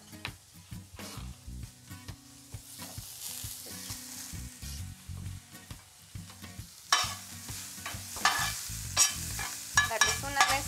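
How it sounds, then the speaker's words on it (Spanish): Carrot strips and vegetables get stirred in a hot pan, irregular scraping and tossing strokes over a sizzle that grows louder and brighter in the second half, with no talking. "Darles una mezcladita."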